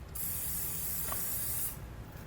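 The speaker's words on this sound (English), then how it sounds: "Now I just like to take some spray lubricant, just spray them down." An aerosol can of spray lubricant hisses in one steady burst of about a second and a half onto the rubber exhaust isolators under a 2017 Honda Accord, close and loud over a low background hum.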